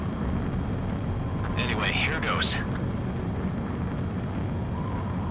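Fighter jet engine in the Ace Combat 7 video game roars steadily throughout as the plane attempts to land, a constant loud wash of jet noise with a brief radio-style voice over it.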